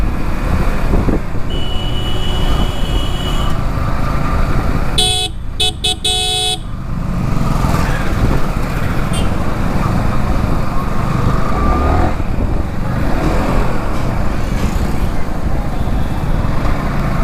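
A 2021 Yamaha R15M motorcycle rides at speed, its engine droning steadily under wind noise, with a short burst of horn honking partway through.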